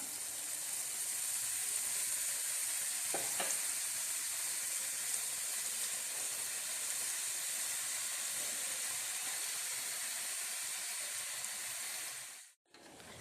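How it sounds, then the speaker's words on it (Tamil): Boondi for laddu frying in hot oil, a steady, even hissing sizzle that holds at one level the whole time, close up with no voices, and cuts off sharply just before the end. "எல்லாத்தையும் வந்து போட்டு நம்ம பொரிச்சு எடுத்துக்கலாம்"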